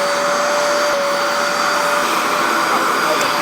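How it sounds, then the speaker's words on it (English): A wet vacuum roars steadily and loudly at close range, with an unbroken whooshing drone and a high whine, as it extracts old sweat stains from the seat upholstery of a Nissan 240SX. "So we're gonna extract that using this very special wet vacuum."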